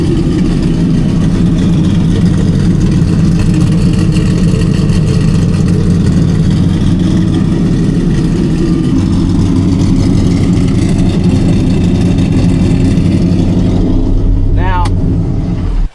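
A Chevrolet C10 fitted with NASCAR-style boom tube exhaust rumbles loudly and continuously at close range, with a deep, heavy engine drone that surges and revs throughout and cuts off abruptly at the end.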